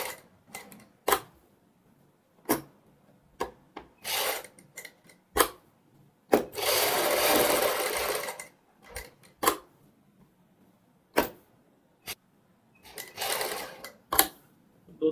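A sewing machine stitches the neckline of a kurti lined with buckram: sharp isolated clicks and knocks, and two longer whirring runs of stitching, close by in a quiet room.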